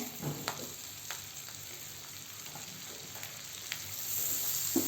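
Two onions frying in oil with curry leaves in a pan over a full gas flame, giving a soft continuous sizzle with a couple of brief utensil clicks, quiet and close.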